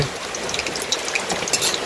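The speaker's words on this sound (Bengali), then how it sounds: "এইভাবে কিন্তু লাল লাল করে ভেজে নিচ্ছি।" Homemade kurkure made from cooked rice and potato frying in hot oil, a steady close crackling sizzle with scattered brighter pops throughout.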